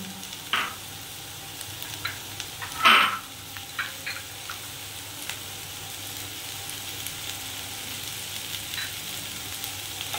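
Potato, papaya and carrot pieces cook in a pan for a chicken stew with a low, steady sizzle. A few louder scrapes and clinks from stirring break in early on.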